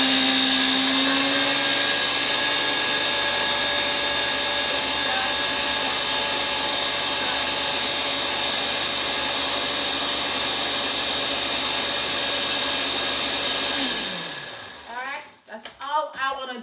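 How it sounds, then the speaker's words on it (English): A kitchen blender whirs steadily for a long stretch as it mixes agidi (eko), a constant high motor drone that winds down near the end, followed by rattling and a voice speaking. "So I'm just going to mix this in my blender."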